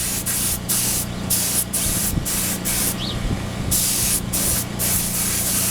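An aerosol can sprays a light coat of paint onto a Honda in cold weather. The hiss comes up close in repeated short and longer bursts, with brief gaps between passes.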